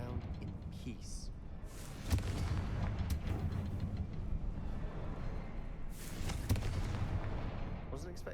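Spell blasts from the Confringo fire curse in Hogwarts Legacy, heard as two sharp, loud explosive bursts over a dense game soundscape of rumble and effects, with talk present.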